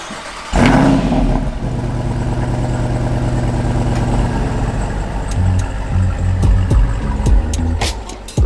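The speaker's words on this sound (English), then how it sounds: "So as soon as we were packed, we all started our engines" Jeep engines, including a Wrangler 392, fire up suddenly from quiet with a loud burst, then settle into a steady, heavy idle with a few sharp clicks and knocks near the end.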